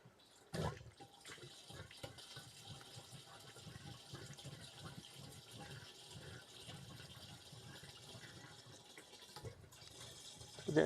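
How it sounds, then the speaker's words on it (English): Water pours steadily from a tap or hose at a construction site, a continuous rushing wash with occasional louder splashes and knocks, fairly quiet and unbroken throughout. "I can hear the pouring going on completely all the time"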